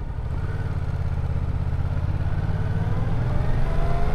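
Yamaha MT-07 motorcycle ridden through city streets, its engine giving a steady, close, low rumbling drone that swells slightly toward the end, with no talk.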